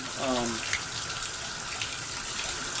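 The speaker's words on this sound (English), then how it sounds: "I do have a fair bit coming from the faucet" Water runs steadily from a three-handle shower faucet during a repair, a constant close hiss and splash throughout with a brief vocal sound near the start.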